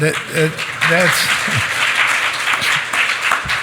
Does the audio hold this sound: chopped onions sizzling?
no